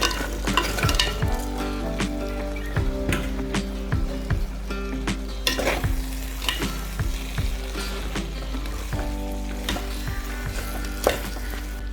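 Chicken pieces tossed into a sautéed spice mixture for devilled chicken, sizzling and frying in a pan with repeated scraping stir strokes and occasional utensil clatter, steady and close throughout.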